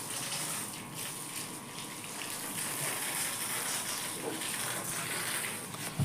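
Tap water gushes steadily and continuously into containers being filled at home, a loud, even rush from start to finish with a small knock right at the end.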